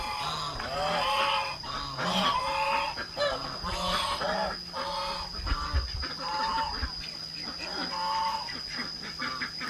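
Chicks and chickens cluck and squawk repeatedly nearby in a busy flock in a garden, with a steady high tone running underneath.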